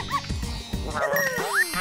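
A cartoon dog in the video game Neighbours from Hell 2 gives a short, close, whiny yelp and growl over its bone, mixed with quick game effects and a rising whistle-like tone.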